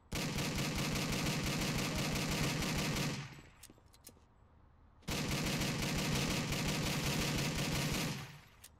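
Sustained automatic gunfire in the Driv3r video game, loud and rapid, in two long bursts separated by a short lull, with no talking.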